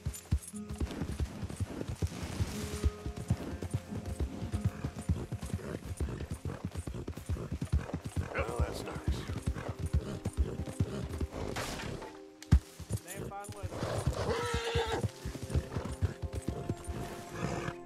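Rapid hoofbeats drum continuously with a horse snorting and whinnying in Red Dead Redemption 2, layered over game sounds and ambient noise, with a sudden crash near the end.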